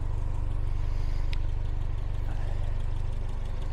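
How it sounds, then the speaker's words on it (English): A 1972 Triumph Spitfire small four-cylinder engine idling smoothly, steady low rhythmic rumble heard close up under the open hood, with a brief faint click partway through. "Look at this cute little engine, and look at how nice it runs."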